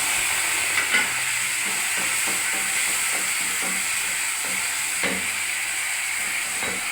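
Tomatoes added to hot oil with black cumin and dried red chilies sizzle in a steady, loud frying hiss, with faint stirring taps scattered throughout and no voices.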